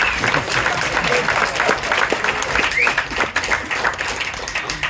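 Dense, loud applause from a large crowd at a film trailer launch fills the whole stretch, steady and continuous with a few faint voices mixed in.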